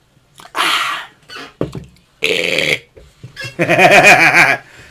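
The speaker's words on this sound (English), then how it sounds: "That's a celebratory burp" A few short bursts of voice sounds with pauses between them, ending in a long, loud, wavering burp followed by laughter.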